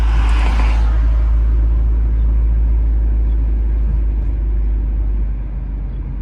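Car rolling slowly along a residential city street in Philadelphia's East Oak Lane, a steady close engine and road rumble throughout, easing slightly near the end.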